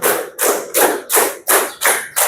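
Rhythmic group hand clapping in a classroom exercise, crisp close claps falling in even repeated bursts, loud and clear, with no voices over them.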